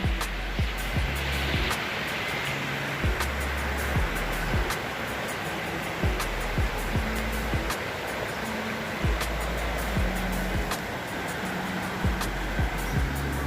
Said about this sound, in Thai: น้ำไหลแรงมากเลย